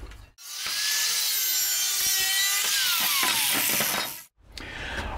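Edges of a wooden piece being trimmed with a power tool: a steady, loud, continuous whirring cut of about four seconds, starting and stopping abruptly, with no talk.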